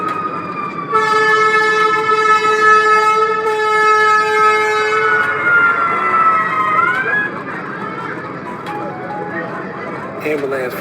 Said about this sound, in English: Ambulance finally arrived.